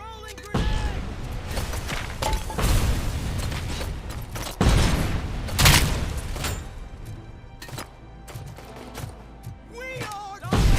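Grenades explode in the shooter game RoboCop: Rogue City, several heavy booms and thuds spread across a noisy firefight with scattered gunfire, loud and close.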